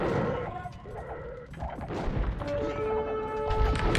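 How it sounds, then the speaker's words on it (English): Age of Empires battle audio as a siege ram is destroyed by bombard cannon fire, with dense overlapping crashes, booms and thuds continuing steadily throughout at fairly loud, busy game-mix levels. "So that's going to be the Ram down."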